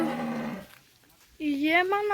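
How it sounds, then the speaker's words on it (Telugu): Cows on a farm give two long, loud moos separated by a brief quiet gap, close to the recorder with no talk over them. "ఆవులు ఎంత బాగున్నాయో చూడండి"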